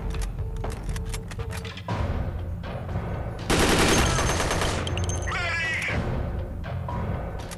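Gunfire set to single tap in the Dead Effect 2 video game: quick separate shots in irregular bursts, then a denser rattling volley, with game effects and faint sounds from a voice.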